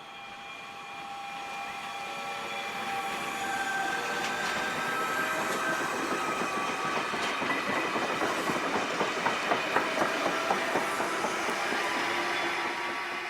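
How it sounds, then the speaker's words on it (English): V set train V38 departing Lithgow, passing through the Eskbank Station precinct with a steady rolling rumble and rising clickety-clack of wheels over rail joints, growing closer and louder with faint squeal. "Here we have V38 departing Lithgow and heading through the Eskbank Station precinct"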